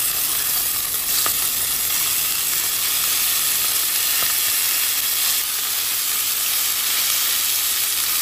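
Pork chops fry in hot oil in a pan, giving a steady, dense sizzle that holds without pause, with faint stirring clicks and no talk.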